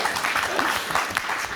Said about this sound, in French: ça s'applaudit, merci.